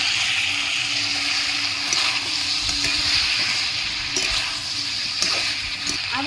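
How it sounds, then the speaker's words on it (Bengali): A soaked paste of coriander, cumin and dried chilli powder frying in a hot pan, a steady close sizzle punctuated by occasional scraping and stirring clicks. "ধনের গুঁড়ো জিরের গুঁড়ো আর শুকু লঙ্কার গুঁড়ো জল দিয়ে ভিজিয়ে রেখেছিলাম আমি দিয়ে দিচ্ছি ভালো করে একটু কষিয়ে নেবো"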